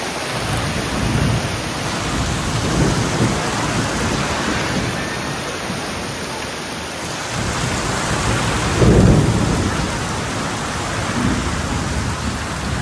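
Torrential rain pours steadily during a Konkan storm, with rolling thunder rumbling through it and a heavier crack of thunder near the end.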